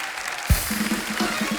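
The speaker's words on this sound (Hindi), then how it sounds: "एक बार जोरदार तालियां हमारे मेहमानों के लिए।" Studio audience applause for guests on a comedy talk show, a steady mass of clapping over a short stretch, with a thump and some tonal music or voice sounds mixed in.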